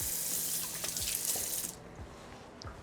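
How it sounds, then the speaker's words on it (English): Running tap water pours steadily over hands being washed, a close, loud gush that cuts off partway through and leaves a quieter trickle. "wash your hands once in a while"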